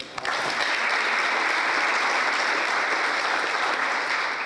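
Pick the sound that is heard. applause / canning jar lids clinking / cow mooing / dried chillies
applause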